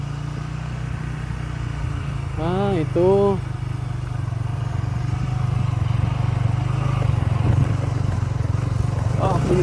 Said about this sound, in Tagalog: Pwede makapasok pala ang motor dito.